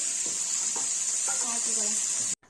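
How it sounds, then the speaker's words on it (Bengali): Fish frying in a small amount of oil in a wok, giving a steady close sizzle with a high hiss throughout and a few faint clinks or stirs, cutting off abruptly near the end. "এই যে দেখো মাছগুলো ভালো করে ভেজে নিচ্ছে আর একদম অল্প তেল দিয়েছি"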